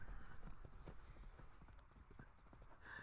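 Hooves of a mare cantering, a quick rhythmic clip-clop of footfalls close by, with faint snorting or a whinny near the end.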